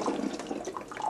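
Water poured from a mug into a coffee maker's reservoir makes a close, steady splashing and gurgling trickle that runs through the whole moment.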